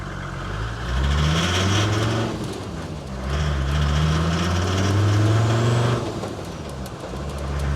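A Land Rover Series 1 with a swapped OM605 turbo diesel engine drives along, its engine droning and rising through revs in two long pulls with a dip between, heard from inside the cabin and noisy.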